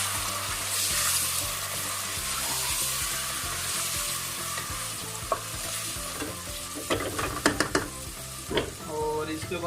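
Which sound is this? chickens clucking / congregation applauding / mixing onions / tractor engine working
mixing onions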